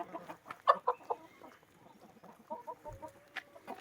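Hens cluck and murmur softly inside a backyard coop, a few short sharp calls standing out over quieter scattered clucking, fairly close but low in level.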